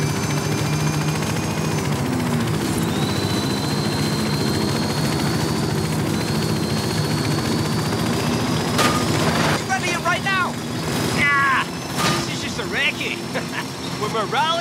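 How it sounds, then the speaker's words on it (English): A helicopter in the Forza Horizon 5 racing game keeps up a steady rotor and engine drone with passing car engine whine, while voices speak and shout over it toward the end. "Follow the chopper."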